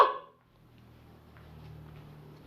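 A person voices one short, sharp bark-like yelp in imitation of a dog, followed by quiet low room hum.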